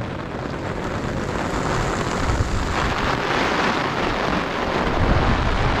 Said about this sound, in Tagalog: Sobrang lakas na naman ang ulan.